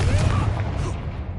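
Brief, heavy rumbling blast of a Confringo spell in Hogwarts Legacy, a low, dense boom with a gritty crackling tail that fades quickly, loud and close in the game's combat mix.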